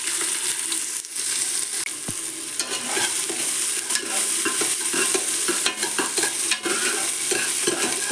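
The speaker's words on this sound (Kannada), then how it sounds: "ಜೀರಿಗೆ ಪಾಡೊಂದುಲ್ಲ, ಒಂತ ಕರಿಬೇವಿದ ಸೊಪ್ಪು, ಕ್ಯಾಶ್ಯೂನಟ್ ಪಾಡೊಂದುಲ್ಲ, ಒಂಜಿ ಮಲ್ಲ ಸೈಜ್ದ ನೀರುಳ್ಳಿ ಪಾಡೊಂದುಲ್ಲ" Cumin seeds, curry leaves, cashews and chopped onion frying in ghee in a pan for a Mangalore-style tomato bath, a steady dense sizzle with occasional stirring scrapes throughout, close and loud, no talking.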